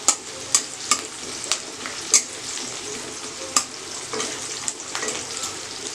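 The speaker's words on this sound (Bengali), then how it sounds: "ভাজছি পেঁয়াজটা, ভাজলে ভালো টেস্ট হয়" Onions fry and sizzle in a pan for a mutton curry, with a steady hiss broken by several sharp clinks and scrapes of stirring, close and fairly loud.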